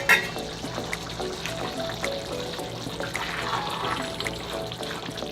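Cooked macaroni being drained, with hot water pouring and splashing steadily into a kitchen sink, a continuous loud rushing close by without speech.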